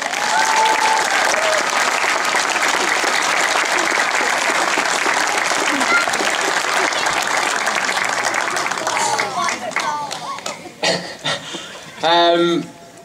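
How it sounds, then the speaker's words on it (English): A crowd at a cycling race champion's celebration breaks into loud, sustained applause that fills the space, then thins out into a few lingering claps and brief chatter and laughter near the end. "if everybody could just give a big round of applause for my mum, my dad and my sisters"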